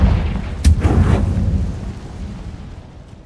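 A Confringo fire-blast spell cast in Hogwarts Legacy, a single loud booming impact followed by a rumbling low roar that fades away over a few seconds, heard alone with no voice over it.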